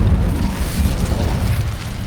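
Incendio fire spell cast in Hogwarts Legacy, a loud, continuous roaring burst of flame with heavy low rumble lasting throughout, no voices.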